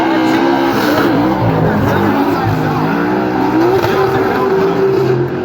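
Ford Performance Mustang drift car on Nitto tires at Formula Drift Irwindale, its engine screaming and revving steadily with rising and falling pitch under sliding tires, loud and close throughout with an announcer talking over it.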